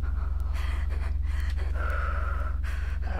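Player character breathing in the horror game Blackwell's Asylum, quick gasping inhales and exhales heard close up over a constant low hum.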